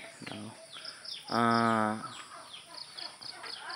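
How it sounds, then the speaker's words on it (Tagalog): A turkey lets out a loud, harmonic gobbling call partway through, with smaller clucks and chirps scattered around it against a quiet outdoor background. "Kanang nga nagulo pabo."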